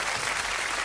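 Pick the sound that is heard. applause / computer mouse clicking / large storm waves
applause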